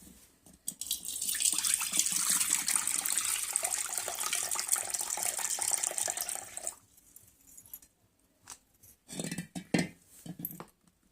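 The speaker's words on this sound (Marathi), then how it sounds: "आता ह्याला आपल्याला 2-3 वेळा पाण्याने स्वच्छ धुवून घ्यायचं आहे" Running water pours steadily into a bowl of poha flakes being rinsed in a kitchen for about six seconds. The flow then stops, followed by a few wet handling sounds and light clinks.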